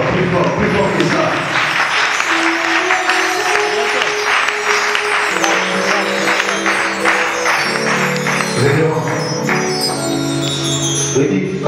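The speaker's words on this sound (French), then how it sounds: "Acclamons plus fort que ça." A church congregation at a celebration cheering and applauding, with steady loud clapping throughout, ringing bell-like tones and a crowd voice blended in.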